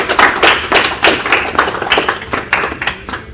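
Irregular hand claps close by, a handful of people applauding briefly.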